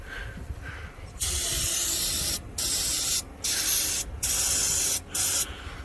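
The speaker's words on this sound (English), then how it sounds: "Premium starting fluid for gas and diesel" Aerosol starting fluid for gas and diesel engines is sprayed into a monster truck's engine intake in several loud hissing bursts of about a second each, separated by short pauses, with faint background noise before the first burst.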